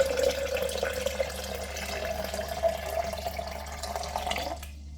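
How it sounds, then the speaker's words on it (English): Water pours steadily into a blender jar while making saltfish rundown, a continuous close trickle and splash lasting about five seconds before it stops, with a low hum underneath. "Adding our water to the blender."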